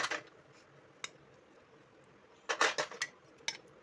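Metal idli pans clink and scrape as they are handled and greased with oil in a home kitchen: a sharp tap near the start, then a quick cluster of rattling knocks, a final clink, all close and fairly quiet.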